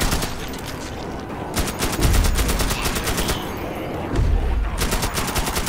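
Loud rapid machine gun fire in the fantasy game Magicka comes in sustained bursts of close, dense shots separated by brief lulls, with deeper thumps beneath.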